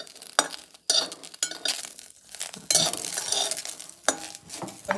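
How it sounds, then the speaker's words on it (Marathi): Wild greens roasting in a pan over a low gas flame, a soft sizzle broken by irregular bursts of stirring and scraping with a metal utensil, close and fairly loud, no voices. "आपण छान असं बारीक गॅसवरच छान भाजून घेतोय आणि मऊ करून घेतोय."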